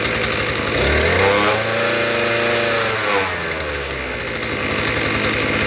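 An Earthquake MC43 garden cultivator engine running steadily after a repair with a new spark plug, fuel lines and carburetor, a close, loud small-engine drone that revs up and settles back, with no talk over it.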